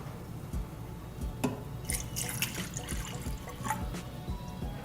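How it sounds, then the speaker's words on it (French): Water poured into an LED light-up drinking glass, a close splashing trickle with small drips and clinks, fairly quiet and continuous for a few seconds with no speech. "Dès qu'on met de l'eau à l'intérieur, ça fait des contacts et puis ça l'allume."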